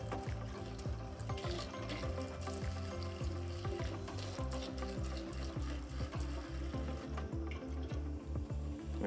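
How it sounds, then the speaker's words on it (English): Waste water from a reverse osmosis unit's flow restrictor pours steadily out of a drain pipe, a continuous close splashing trickle with rapid irregular drips throughout, fairly quiet and alone. "waste water comes out of the membrane through the flow restrictor and then pours out the pipe"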